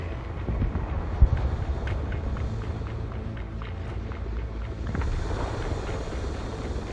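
Comanche helicopter in the video game Broken Arrow, heard as a steady, dense rotor and engine roar that fills the background without a break, with faint scattered battlefield noise mixed in.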